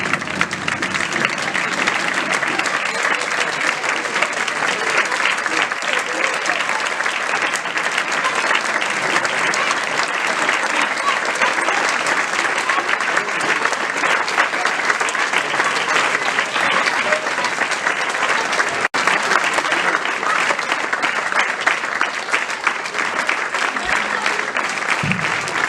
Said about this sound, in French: je vais vous demander symboliquement de vous lever et applaudir pendant 1 minute pour ces 3 personnes qui nous ont quittés